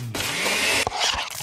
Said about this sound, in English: That's the sound of a smoothie bowl being made fresh